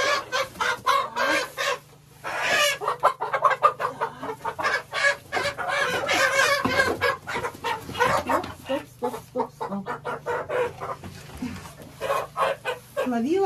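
Hens clucking and murmuring close by in a steady series of short calls, with a faint low hum underneath.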